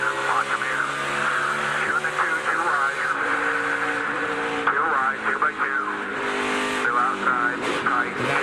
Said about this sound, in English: You hear the throttle control.